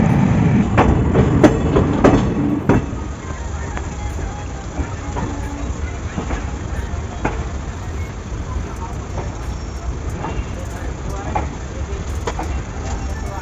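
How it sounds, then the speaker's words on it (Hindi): The 09525 Hapa–Naharlagun summer special pulls out of Chhapra Junction in Bihar, heard from inside a sleeper coach: a loud continuous rumble with rhythmic clickety-clack wheel beats and scattered sharp clanks. "10 मिनट हॉल्ट के बाद निकल चुकी अपनी ट्रेन बिहार के छपरा जंक्शन से भी।"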